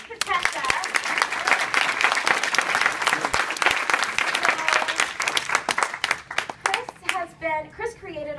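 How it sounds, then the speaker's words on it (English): A convention panel audience at New York Comic Con bursts into dense, sustained clapping that fills the room, then thins out into scattered claps as a voice begins speaking near the end. "round of applause for Chris Patesha."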